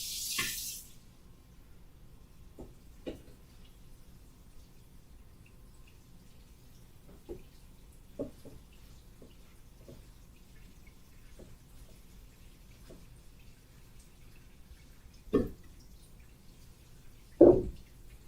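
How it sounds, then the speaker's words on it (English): Lettuce is washed in a colander under cold running tap water, heard as faint, intermittent splashes and drips spread across a mostly quiet stretch, with a few louder bursts of water near the end. "I'm going to put my lettuce in the colander and I'm going to wash it under cold running water."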